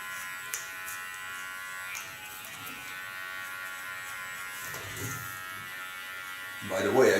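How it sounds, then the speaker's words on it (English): An electric hair clipper buzzes steadily and close throughout as it cuts hair, with a brief louder burst of noise near the end. "By the way I use my clipper,"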